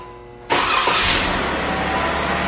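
A car engine cranks and catches abruptly, then settles into a steady, loud running roar close to the microphone, with no talking.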